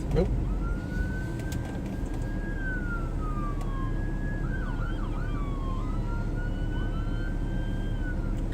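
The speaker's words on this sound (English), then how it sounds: "There's a funeral procession that just came through, and two sheriff cars just kind of stopped in the intersection" Sheriff cars with sirens wailing as they pass with a funeral procession, several rising and falling siren sweeps heard at a moderate distance over steady background noise, with a voice talking faintly underneath.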